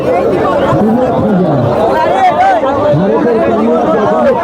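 Dense crowd chatter fills a packed street at the Bishnupur second-hand fair, many overlapping voices close by in a continuous loud babble.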